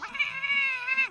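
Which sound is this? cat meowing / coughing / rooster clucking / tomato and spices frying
cat meowing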